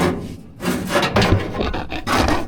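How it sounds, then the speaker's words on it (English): A wooden screen is pried and pulled out of an auctioned instrument with rows of small hammers inside, giving steady close scraping and rubbing of wood on wood with rough rasping bursts. "We'll pull the screen out if I can."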